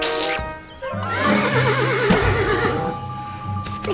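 A toy horse plays an electronic neigh, a loud close whinny with a wavering pitch lasting about two seconds, followed by faint hoof-like clip-clop effects and clicks.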